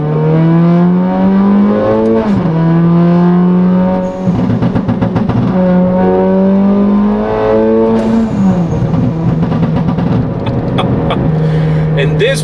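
A loud Mercedes CLA 45 AMG wide body engine revs hard through several gears, each rising pull broken by quick shifts and crackling pops, close and dominant.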